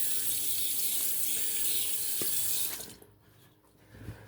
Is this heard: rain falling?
no